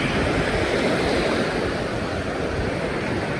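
Waves wash continuously onto the beach at Tsilivi on Zakynthos, a steady broad surf roar with some wind buffeting the microphone and no voices.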